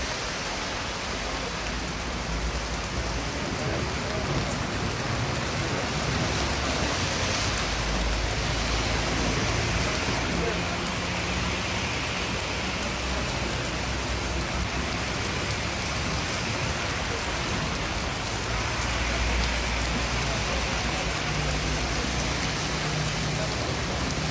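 Heavy rain pours steadily over Marrakech, a dense, continuous hiss of drops with a low rumble underneath, loud and unbroken throughout with no voices.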